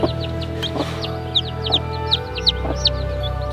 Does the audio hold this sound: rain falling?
no